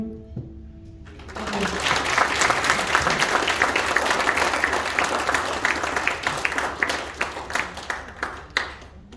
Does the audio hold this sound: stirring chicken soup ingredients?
no